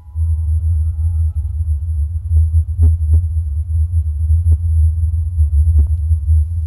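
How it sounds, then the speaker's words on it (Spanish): A steady, deep low-frequency rumble known as the Taos hum drones on continuously, with a few faint clicks scattered over it and a thin high tone hanging far above. "ahí tenemos el sonido de Taos de nuevo"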